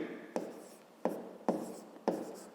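Pen strokes on paper while working a math problem, four short scratchy scribbles with quiet gaps between them, close and distinct.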